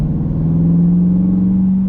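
A Chevrolet C8 Corvette engine with a throttle body controller revs hard at full throttle, a loud, steady, close droning roar that holds for the whole moment.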